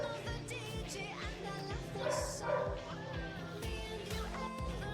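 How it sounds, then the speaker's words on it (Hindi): A dog barks indoors, its short yaps faint and partly buried beneath steady rhythmic music. "अरे कौन भौंक रहा है ये बदतमीज?"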